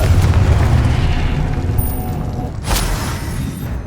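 A Confringo spell blast in Hogwarts Legacy erupts as a loud, deep boom that rolls and fades over a few seconds, followed by a brief second burst, with no voices.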